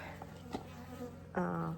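Bees buzz at a hive inside a desert tortoise den, a close, steady droning hum that swells louder near the end.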